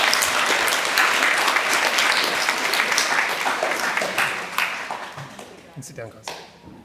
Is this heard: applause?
yes